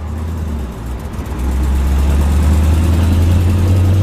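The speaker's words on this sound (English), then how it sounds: "Sounds like a tractor. That old transmission." A 1950 Oldsmobile 88 engine runs steadily with a deep, low rumble that grows a little louder and heavier partway through, with its old three-speed transmission gears droning underneath.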